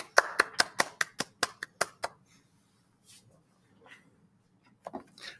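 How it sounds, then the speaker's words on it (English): Children clap their hands in a quick, sharp burst of about ten claps, then fall quiet, before a few scattered claps return near the end. "Go ahead and clap."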